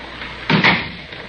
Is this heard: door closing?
yes